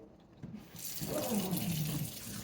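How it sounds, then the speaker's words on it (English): Tap water running into a sink to rinse out powdered Comet cleanser, a brief splashing rush that starts after a quiet moment and continues steadily, fairly soft. "I'll rinse the powdered stuff out."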